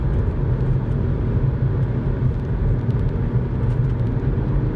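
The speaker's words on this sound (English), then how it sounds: "Kind of fun to go through the gears manually." An Audi A3 engine runs steadily while the driver shifts gears manually, a continuous low, close rumble of road and engine noise with no clear pauses or voices over it.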